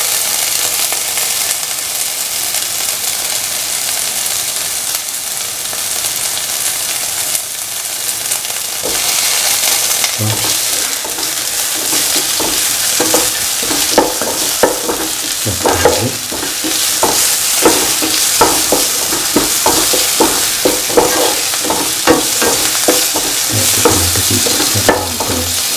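Tomato pieces fry and are stirred in a pan for a vermicelli egg pasta, a steady close sizzle with repeated scraping stirs that grow busier and louder partway through, no voices.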